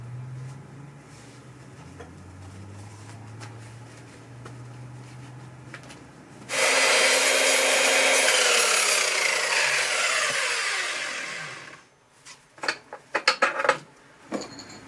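A power saw bites into a mild steel bar with a loud, steady grinding roar for about five seconds, winds down, then a few sharp clanks follow.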